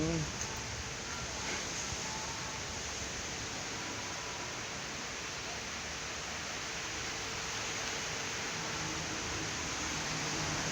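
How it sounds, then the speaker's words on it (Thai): Steady rainfall, a soft, even hiss of drops with no breaks, fairly quiet and constant from start to finish. "หยุดเถอะฝนเอ้ยหยุดเถอะฝน"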